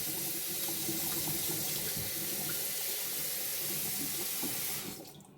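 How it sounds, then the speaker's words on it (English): Kitchen tap running steadily into a sink while food is rinsed, a loud close rush of water that continues for several seconds and then stops as the tap is turned off. "let's go ahead and rinse them all off, and that way I can go ahead and turn the water off"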